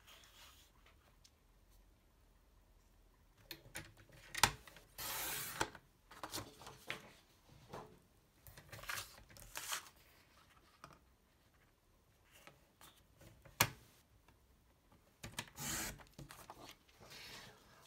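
Designer paper is cut to size for a lip balm box, with quiet intermittent scraping and rasping strokes, a few sharper bursts, close and faint with pauses between.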